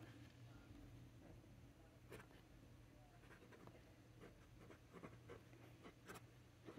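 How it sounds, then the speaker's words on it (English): A vintage Eversharp pen writes on paper in green ink, giving soft, faint scratching strokes in short bursts against a low steady room hum. "I'm just going to write FWP."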